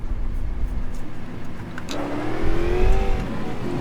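A stock car engine in the StockCar World Tour racing game rises in pitch as the car accelerates away from the pit lane at São Paulo, a steady loud revving climb with no talk over it.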